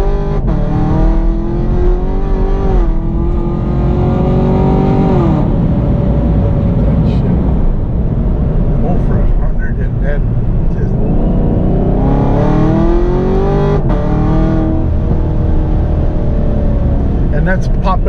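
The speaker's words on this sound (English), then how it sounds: "That's popping when it's shifting, right?" A car revs hard and accelerates through its gears, its exhaust popping and crackling at each shift. The engine is loud and near, and people talk excitedly over it.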